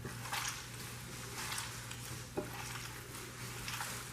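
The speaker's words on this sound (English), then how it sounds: "I'm just gonna mix all this together" Ingredients are mixed together by hand in a bowl, giving quiet, soft squelching and stirring noises in uneven bursts over a low background hum, with no talk.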